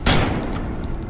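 A single heavy magnum shot fired in the horror video game Nightmare of Decay: a loud, boomy blast up close that rings out and decays slowly over the following second.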